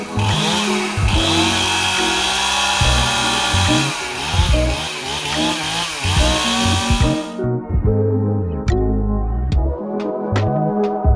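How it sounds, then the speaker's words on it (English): A chainsaw runs steadily and loud while cutting down a tree among orange trees in Puerto Rico, its engine droning with shifting pitch for about seven seconds before dropping to a rougher idle with sharp crackling snaps. "So our chainsaw got stuck in the tree"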